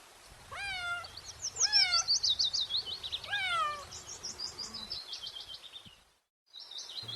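Three short cat meows in quick succession, followed by higher chirpy, trilling calls that fade into a brief silence.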